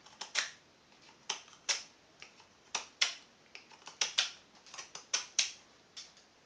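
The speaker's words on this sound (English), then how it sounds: "here's the number 10 stainless going through the same wood." A number 10 stainless steel knife carves black cherry wood in a series of sharp, close scraping cuts. The cuts come in uneven bursts with short quiet gaps between them.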